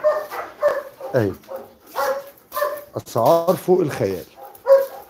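Husky puppies at a dog farm yip and whimper in short high bursts, close by, mixed in with someone talking over them.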